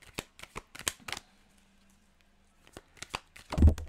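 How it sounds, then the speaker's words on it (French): Tarot cards being shuffled in quick bursts of papery riffles and flicks, close by, with a quiet pause in the middle and a louder thump at the end; no speech. "on est vraiment à minuit moins une dans le tirage numéro 2"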